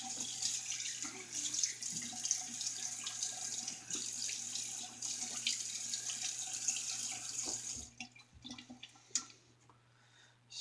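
A bathroom tap runs steadily to rinse a razor after a shave, a close, continuous splashing stream that stops near the end, leaving a few faint drips and clinks.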